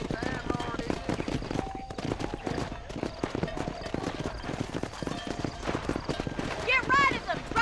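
Horse hooves clip-clop steadily through a Red Dead Redemption cattle drive, mixed with cattle sounds and a brief whinny near the end, while a voice calls out over the trotting.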